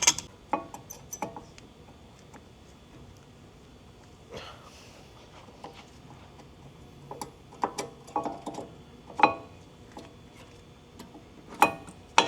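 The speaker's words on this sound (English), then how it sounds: "here we're going to compress the piston on the caliper" Brake caliper piston being compressed on a Honda Prelude during a front brake overhaul, heard as sparse metallic clicks and ratcheting ticks scattered irregularly, close by with no talking.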